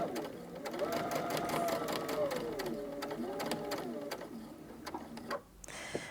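A home sewing machine stitches fabric for a Christmas advent calendar, a steady whirring hum with rapid needle ticking that shifts pitch as the speed changes, then stops abruptly near the end.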